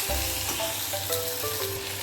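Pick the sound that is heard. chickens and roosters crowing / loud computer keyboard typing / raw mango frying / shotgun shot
raw mango frying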